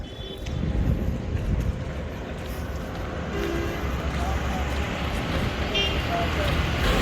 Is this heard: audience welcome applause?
no